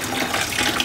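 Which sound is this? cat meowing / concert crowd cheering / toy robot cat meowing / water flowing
water flowing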